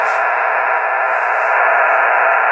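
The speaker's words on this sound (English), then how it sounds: "you can hear how much background noise" Steady broadband hiss and static from a radio receiver with digital noise reduction switched off, loud and continuous with no signal or voice breaking through.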